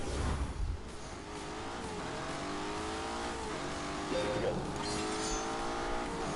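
A Lamborghini Urus engine driving in The Grand Tour video game, a steady revving drone with shifting pitch as it accelerates.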